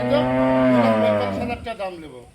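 A single long, low moo from a dairy cow at a dairy farm, loud and close, tapering off with a few rougher grunts at the end.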